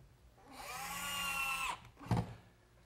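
A power drill driving 1.5-inch screws into a workbench top and frame, whirring steadily for about a second before stopping, followed by a short knock of the tool or board; close and moderately quiet, no talking.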